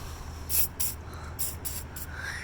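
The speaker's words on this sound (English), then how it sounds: "So start with some PB blaster on all your bolts." PB Blaster penetrating oil is sprayed onto rusty bolts in a Jeep Cherokee XJ engine bay during an AC compressor replacement, in three or four short, close hissing bursts over a steady low background.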